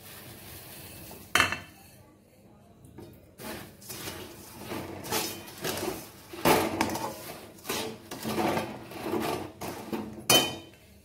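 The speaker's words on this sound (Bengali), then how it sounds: "এবার আমি ঝুরিগুলো দিয়ে দিচ্ছি।" Crisp fried jhuri for Durga Puja jhurer naru tumble into a kadai, giving scattered light clatters and rattles of the mix being tipped and stirred, with a few louder knocks against the pan.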